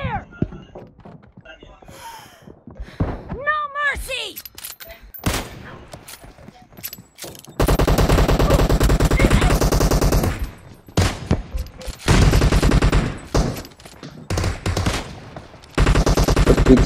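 Kar98k rifle fire and other gunfire in a team deathmatch video game, single sharp shots early, then long dense bursts of loud rapid firing, with voices talking over the action.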